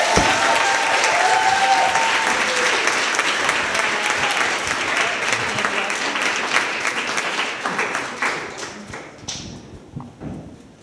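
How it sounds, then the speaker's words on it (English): A demo day audience bursts into loud, sustained applause for a presenting team, dense clapping filling the room for about ten seconds before tapering off near the end. "let's give a round of applause for Team BusyBee"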